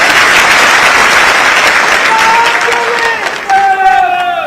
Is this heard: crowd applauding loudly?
yes